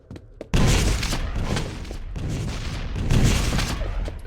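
Weapon fire in the arena shooter Quake Live, including railgun shots, forms a loud, dense barrage of blasts and booms that runs almost without a break after a sudden start.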